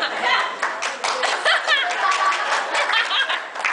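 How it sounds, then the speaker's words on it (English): Wedding guests clap and laugh for the best man, a brisk, close burst of applause mixed with chuckles that continues throughout. "Hold for applause."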